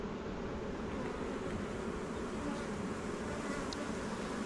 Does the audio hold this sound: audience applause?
no